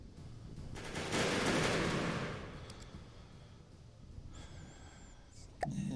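A craft's main gun fires in From The Depths, a loud rushing burst swelling and fading over a couple of seconds, followed by quieter mechanical whines and a sharp crack at the end.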